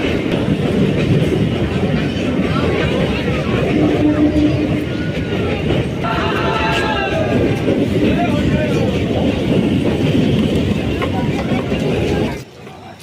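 A train rolls through Vikramganj railway station in Bihar, a loud continuous rumble with rhythmic clickety-clack of wheels on rails and crowd murmur, cutting off abruptly near the end.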